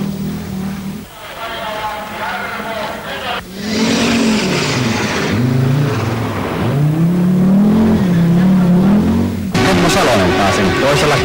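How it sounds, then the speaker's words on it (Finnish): An Audi rally car races past, its engine loud and revving with rising and falling pitch as it accelerates and shifts, the roar sustained throughout with a sharp change near the end. "Hyvinkäläisen Hemmo Salosen kuvankaunis Audi sai osakseen ihailua, eikä ajolinjoissakaan ollut valittamista."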